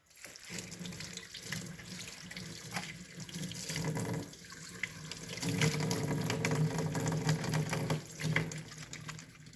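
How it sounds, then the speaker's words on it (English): A tap runs continuously into a sink while hands splash and rub under the stream, the flow surging louder partway through. "the first step is to wash my hands"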